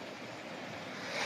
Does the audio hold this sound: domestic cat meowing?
no